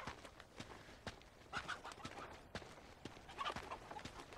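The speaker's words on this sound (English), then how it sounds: "Chicken! Chicken!" A chicken in Uncharted 2 gives soft repeated clucks in an irregular rhythm, faint and fairly close, alongside light tapping footsteps.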